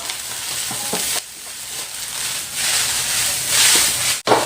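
Salted fish being stir-fried in a pan, with a loud continuous sizzle that swells and dips as the pieces are tossed, plus a brief scrape.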